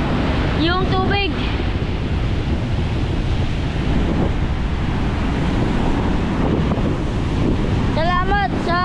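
Storm surge waves and strong wind buffeting the microphone at the Bucana seaside, where water has flooded shoreline houses; a continuous roaring wash with gusty rumble, and short voices calling out near the start and end.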